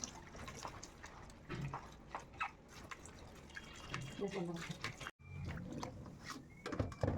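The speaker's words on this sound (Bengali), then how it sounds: "তারপরে এই যে করলা উচ্ছে আলু ওইগুলোকে ফের ধুয়ে নিচ্ছে" Water splashes and drips as bitter gourd and potatoes are rinsed by hand in a home kitchen, a continuous wet patter with a voice talking over it.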